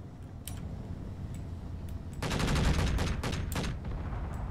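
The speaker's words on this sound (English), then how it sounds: "Am I wrong to see that you're still receiving gunfire?" Gunfire in the Space Engineers video game comes as rapid bursts of crackling shots over a steady rumbling background, peaking in a dense volley midway through. No one speaks.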